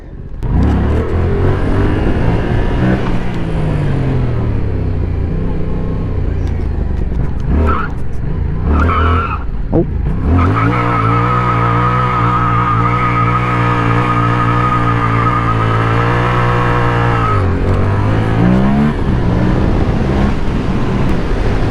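A Yamaha MT-07 motorcycle riding onto an interstate, its engine loud and close as it revs and climbs through gears, with heavy wind rush underneath.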